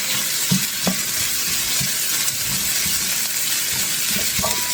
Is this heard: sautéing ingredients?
yes